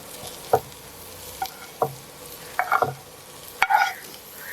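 A spatula scrapes and stirs egg noodles with sauce in a frying pan, giving about five sharp knocks spaced a second apart over a quiet background sizzle.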